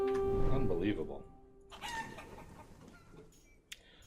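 Chickens cluck and squawk on a crowded farm in the village-building game Forest Village, a brief burst of fowl calls near the start that fades as someone talks over it.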